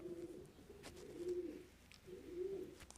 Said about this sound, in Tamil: இதுவும் ஊதுபுரா இனம்தான் இது எல்ஸ்டர் பவுட்டர்னு பேர்